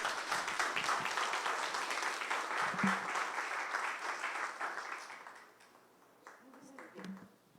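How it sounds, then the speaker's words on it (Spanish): A church congregation applauds in praise of God, a dense, steady clapping that runs loud for about five seconds before thinning out, with a few faint voices near the end. "Entonces, démosle un aplauso a nuestro Dios."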